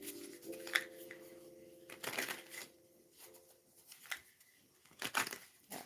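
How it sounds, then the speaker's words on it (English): Tarot cards are shuffled in several brisk riffling bursts, close and fairly quiet, with soft papery slaps between them and a faint background tone. "I'm gonna shuffle a couple more times"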